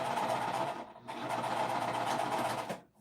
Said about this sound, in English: like sewing these together right now, that front piece did work well as a leader